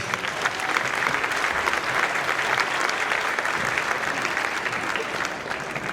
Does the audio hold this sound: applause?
yes